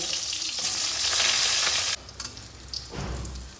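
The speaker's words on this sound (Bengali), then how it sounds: "এবার আমি একই তেলে বেগুনগুলোকে ভেজে নেব বেগুনগুলোকেও হাই ফ্লেমে ভেজে নিতে হবে" Eggplant pieces fry in hot oil over a high flame, a loud hissing sizzle that drops sharply partway through and then crackles more quietly.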